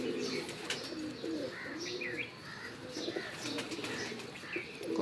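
Pigeons on a rooftop give repeated soft coos with a few brief chirps, moderately close over light outdoor background noise, and there is no talk.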